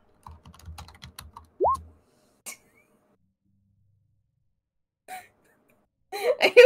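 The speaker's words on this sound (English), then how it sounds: "Typing intensifies." Rapid bursts of computer keyboard typing clatter close by in a quiet room, broken by short gaps, with a hiccup-like vocal sound and a few later clicks.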